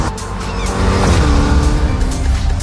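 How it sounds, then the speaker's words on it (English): Race car engine in a Japanese racing video game, a loud continuous roar with steady harmonic drone and rising intensity, close and alone with no talk. "Our cars sound better than ever, with greater detail and remastered audio"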